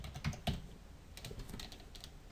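Close, quiet keystrokes on a computer keyboard typing an expression, a short irregular run of soft clicks with a couple of sharper taps, alone without voices.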